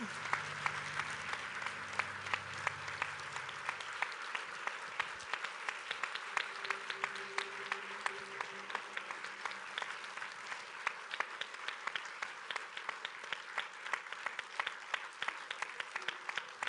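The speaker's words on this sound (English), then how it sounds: "Applaudissements, absolument." Applause from the audience at the Prometheus press conference in Paris with Ridley Scott and Noomi Rapace: a long, even patter of many hands clapping, fairly quiet and distant, lasting well over fifteen seconds.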